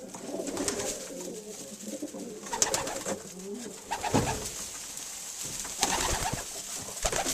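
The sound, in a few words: pigeons cooing in a breeding loft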